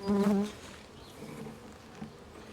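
Honey bees buzz around a hive frame up close, a louder drone at first that settles into a steady, softer hum with a few passing buzzes.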